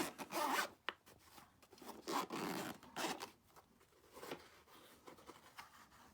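A zipper on a quadcopter drone carrying case is drawn open in several close, scratchy pulls, loud at first and then lighter and more broken, with no talking.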